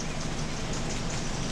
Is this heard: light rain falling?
yes